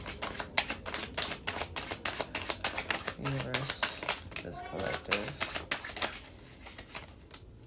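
A deck of cards being riffled and shuffled in quick repeated bursts of sharp, crisp flutters close by, with a person speaking softly over the shuffling.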